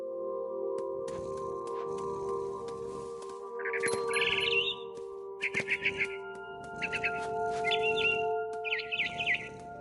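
Bird chirps from What Remains of Edith Finch, heard as a mama bird in a big tree, come in short bright bursts over a steady droning game soundscape, with several clusters of rapid tweets spread through the scene.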